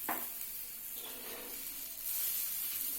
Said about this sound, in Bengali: এবার পরেরটাও আমার ভাজা হয়ে গেছে এবার আমি কি করেছি উল্টিয়ে দিচ্ছি